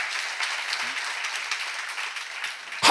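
A church congregation applauds during a sermon, a brief steady patter of many hands clapping at moderate distance, ending with a sharp close knock.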